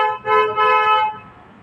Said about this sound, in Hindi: ये गैस की गाड़ी है क्या?